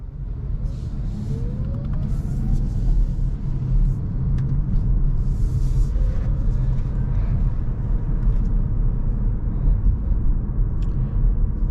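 Cabin of a 2024 Kia Niro EV accelerating on the road, a steady low rumble of tyres and road noise with a faint rising electric motor whine, continuous throughout with no talking.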